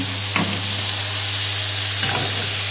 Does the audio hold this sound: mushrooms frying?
yes